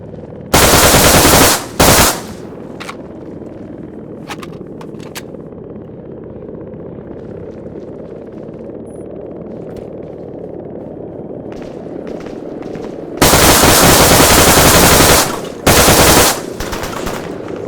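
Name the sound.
CAR-95 gunfire in video game Arma 3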